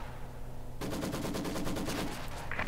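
Maxim machine gun in Company of Heroes 2 opens up as a rapid, steady stream of loud, evenly spaced shots. The burst lasts about two seconds after a quiet lead-in.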